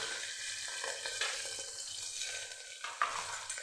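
Cumin, curry leaves and onion sizzle steadily in hot oil for khichdi, a continuous soft frying hiss with a few light clinks and scrapes of stirring.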